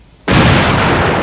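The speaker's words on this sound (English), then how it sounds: "It adds up to a very large explosion" A large chemical explosion from mixed test-tube contents bursts in suddenly after near silence, a loud broadband blast that holds as a sustained roar to the end.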